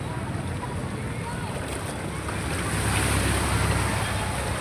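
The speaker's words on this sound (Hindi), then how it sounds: "पानी पानी बह रहा" Floodwater pours and rushes through a street during heavy monsoon rain, giving a continuous broad roar mixed with gusty wind buffeting. The sound grows slightly heavier toward the end.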